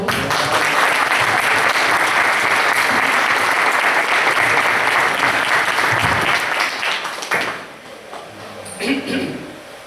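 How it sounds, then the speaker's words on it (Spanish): A Spanish lecture audience breaks into strong, loud applause, dense clapping that holds steady before thinning out near the end, followed by brief scattered claps and a faint voice. "Un fuerte aplauso."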